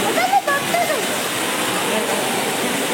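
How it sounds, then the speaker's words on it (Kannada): A small waterfall inside a butterfly park at Bannerghatta splashes in a steady, close wash of falling water, with a voice speaking briefly over it at the start. "ಬಟರ್ಫ್ಲೈ ಪಾರ್ಕಿನ ಒಳ ಸಣ್ಣ ಜಲಪಾತ."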